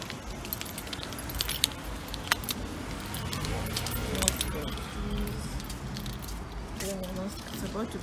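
Keys jangle in short metallic bursts while someone fumbles with a mask indoors after coming in from a closed filling station; a busy background of movement and rustle sits under steady talking.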